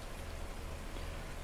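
Steady rain patters and hisses in Farming Simulator 19 on the Felsbrunn map, a continuous even wash of drops with no other sounds.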